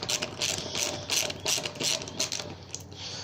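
A ratchet clicks in quick bursts while undoing the front cowl bolts on a Kawasaki KLX 125 motorcycle, close and crisp, several short ratcheting strokes with brief pauses between.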